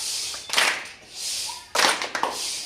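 A rocket clap for children in a classroom language lesson: a few sharp, close claps in two quick clusters with hissing sweeps between them, loud and bright.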